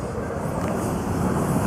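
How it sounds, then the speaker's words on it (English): A train rumbles past close by outdoors with steady, loud, continuous rail noise, and no voices over it. "By the way, there's a train."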